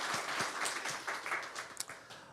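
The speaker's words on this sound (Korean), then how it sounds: "우리 하나님께 영광의 박수 올려드리겠습니다" A short burst of applause from a church congregation during a Korean Sunday worship service, many hands clapping together, fairly soft and steady before fading.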